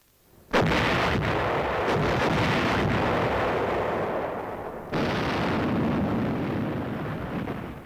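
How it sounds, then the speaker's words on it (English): Army artillery battery firing with an aerial observer directing, a heavy gun report that sets off a long rolling rumble, then a second blast partway through that continues booming, loud and distant-sounding with no voices. "Artillery batteries with an aerial observer to direct their fire have developed a high degree of"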